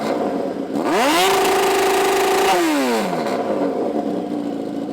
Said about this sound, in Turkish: arka lastiği ve maşayı birazcık uzatınca egzozu da değiştirmek gerekti. Acayip bir sesi var.